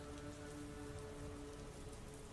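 A rain sound effect: a dense, even hiss of falling raindrops that stays constant throughout, with no voices or other sounds.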